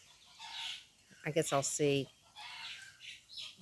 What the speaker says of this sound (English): those roosters are like going crazy over there